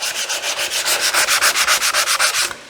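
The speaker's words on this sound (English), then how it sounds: "sand it a little bit." Hand sanding on rusty bare metal with a patina, a close, loud run of about fifteen quick, regular back-and-forth scratching strokes, alone without speech.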